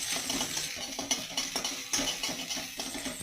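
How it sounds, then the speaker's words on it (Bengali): Eggs being beaten into a paste in a bowl for chicken chow mein, a steady run of quick, light clinking whisk strokes against the dish, close and fairly soft with no talk. "এখানে ডিমের পেস্ট করে নিচ্ছি"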